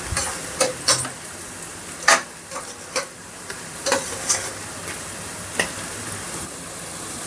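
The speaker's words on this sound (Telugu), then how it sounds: "ఆనియన్స్ బాగా ఫ్రై చేసుకోవాలి." Onions frying and being stirred in a pan for a mushroom masala curry: a constant quiet sizzle broken by sharp scraping clicks of the spatula every second or so, close by, with no voices.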